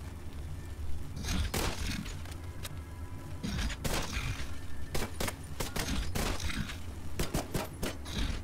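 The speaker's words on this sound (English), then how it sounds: "Two pistol shots." Repeated pistol shots fired in The Division 2 against armour-plated enemies, sharp loud cracks arriving in irregular bursts over a steady game background with impacts and rattles.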